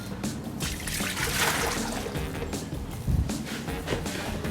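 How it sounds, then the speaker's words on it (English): Water poured in a steady trickling stream into a commercial dough mixing machine, part of 6 litres for a large batch of pizza dough, heard close and continuous for a few seconds with no talk. "we start by first adding 6 litres of water to the machine"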